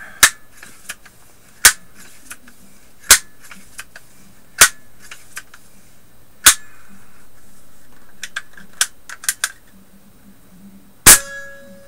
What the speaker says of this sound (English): put in 5 pumps here so you guys can hear it with air in it.